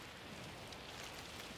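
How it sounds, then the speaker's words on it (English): Steady, soft rain falls in the Lonely Mountains: Downhill game, a faint even hiss of drops with no other sounds and no voices. "I hope you like some rain ASMR, because this is the theme of this track"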